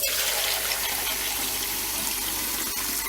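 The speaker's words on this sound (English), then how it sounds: "there wasn't much water in that kettle, so let's just start filling that up." Tap water runs steadily into a Brita filter kettle, a continuous close gushing fill with no talk over it.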